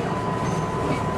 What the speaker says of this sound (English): that's a good 8 hour train ride